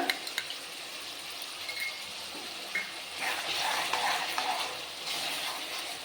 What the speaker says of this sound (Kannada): ಇದನ್ನು ಇದರಲ್ಲೇ ನೀಟಾಗಿ ಫ್ರೈ ಮಾಡ್ಕೊಳ್ಳೋಣ.